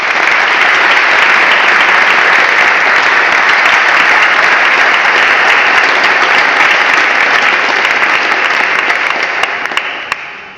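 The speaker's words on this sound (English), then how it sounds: "would you please give a warm round of applause of appreciation for our candidates?" Warm, sustained applause from an audience at a parliamentary candidates' hustings for the 2024 Rutland and Stamford election, dense, loud and even for about ten seconds before tapering at the end.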